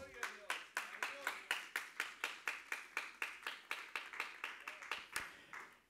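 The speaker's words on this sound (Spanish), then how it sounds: "Dale palmas al Señor" A church congregation claps steadily together in praise, about two dozen crisp, evenly spaced beats at a quick regular rhythm, sharp and close, continuing for the whole clip.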